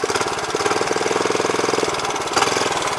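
A Tanaka MKS1000R ditch-cutting rider machine's small engine runs steadily close by, with a fast, even knocking rhythm and a brief rise in revs near the end, with no talking.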